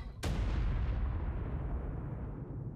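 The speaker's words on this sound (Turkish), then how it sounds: "Kuyruğunu sallarken aynı zamanda bomba mı patlatıyor cidden?" A single sudden, loud blast as the creature Nova the Destroyer swings its tail in modded ARK (Primal Fear, Ragnarok map), followed by a long, heavy rumbling decay that fills the rest of the moment, with no talking.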